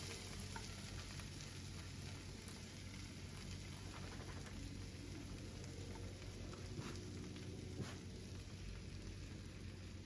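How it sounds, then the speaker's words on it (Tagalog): Beef tapa sizzles steadily in a hot pan, a dense continuous crackle and hiss holding at an even level throughout with no talking over it. "Okay, sizzling na yun. Narinig nyo. True to the taste, saka true to the sound."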